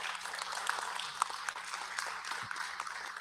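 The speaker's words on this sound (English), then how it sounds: "if we could give all of our candidates a round of applause" Faint, thin applause from an audience at a city commission candidate forum, a light patter of scattered claps at low volume for a few seconds.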